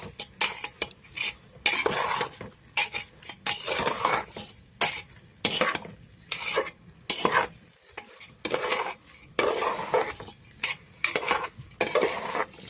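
Rice, lentils, salt and bay leaf stirred together in a pot for kesuri, a spoon scraping and clanking against the metal in quick repeated strokes with brief pauses, close and fairly loud, no talk.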